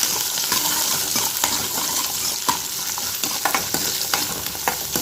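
A handful of garlic, ginger and two green chillies sautéing in a pan for paneer butter masala: a bright, steady sizzle with repeated spatula scrapes and taps close up, no voices.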